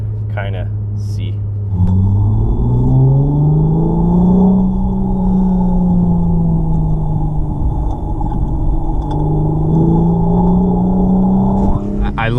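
An Acura TL with SH all-wheel drive and a manual gearbox pulls hard, its engine note droning and climbing as it revs through gears, loud and close from inside the cabin.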